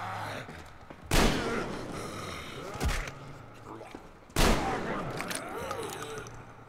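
Weapons firing in the video game Metro Exodus during a fight with a minotaur creature: two loud, sharp shots with echoing tails and a softer thud between, while a player talks over the action.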